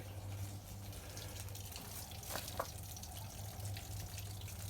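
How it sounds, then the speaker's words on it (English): Steady trickle of water dripping from the bed of a 2001 Ford F-350 truck, a few distinct drips standing out, close by, over a low constant hum. "it's water dripping out of the bed"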